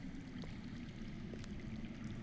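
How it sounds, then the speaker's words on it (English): Faint, steady rush of running water from underground in the Game of Thrones Telltale game, a low continuous murmur with no talk. "I hear water. From underground."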